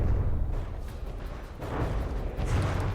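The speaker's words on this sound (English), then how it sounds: "There's a couple of good turret hits, and that's a turret dead." Heavy rumbling booms and blasts from shells striking turrets in the naval combat game From the Depths, a dense, continuous low roar of explosions with no clear gaps and no talk.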